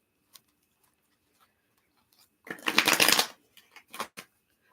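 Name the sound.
shuffling tarot cards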